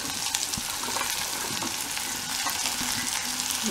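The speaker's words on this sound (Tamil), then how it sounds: "வெண்டைக்காய் நல்லா வதங்கணும்" Okra sizzles and crackles in hot oil, a continuous bright frying hiss with occasional stirring scrapes, close and steady.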